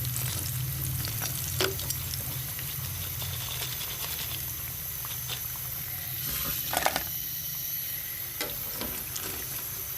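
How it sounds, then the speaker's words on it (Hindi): Potato triangle snacks frying in hot oil, a steady close sizzle and bubbling with occasional louder crackles and spatters, no voices over it. "अब इसको हम फ्राई करते हैं।"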